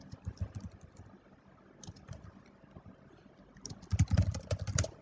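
Typing on a computer keyboard while building a website in Google Sites: quick irregular key clicks in short bursts, with a denser, louder flurry near the end, close and alone with no talk.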